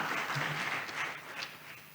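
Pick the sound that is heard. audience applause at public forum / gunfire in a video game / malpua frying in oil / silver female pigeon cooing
audience applause at public forum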